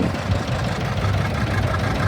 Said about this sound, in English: And then we have here a whole row of John Deere engines there.